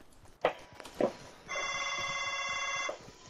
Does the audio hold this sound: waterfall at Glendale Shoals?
no